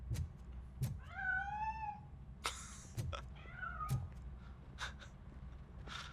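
A cat in the video game RoboCop: Rogue City meows several times in short rising cries, clear and fairly close, over a low steady background hum.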